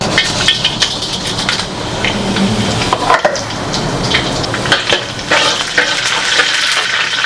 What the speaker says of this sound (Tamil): ஆயில் ஊற்றிடலாம் பிரியாணி இலை கல்பாசி ஜீரகம் இந்த சோம்பு எல்லாத்தையும் ஒன்றா போட்டு தாளிக்க ஆரம்பிச்சிடலாம்